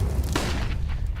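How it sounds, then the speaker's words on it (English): A grenade detonating in a CS:GO match, a muffled boom with a brief burst of noise amid steady low game rumble, moderately distant and not very loud. "That's a pretty good grenade, though."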